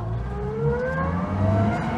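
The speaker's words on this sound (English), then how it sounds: "Oh, lovely gearbox whining first." Zastava 750 gearbox whining loudly in first gear, a rising mechanical whine layered over the small engine's revving drone, close and continuous throughout.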